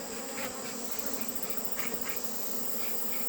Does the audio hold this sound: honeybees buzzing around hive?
yes